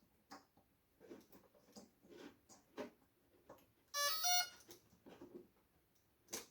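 A short burst of bright, high-pitched electronic beeping tones from a fixed-wing UAV powering on as its battery connects, loud and close, rising briefly above faint background handling noises.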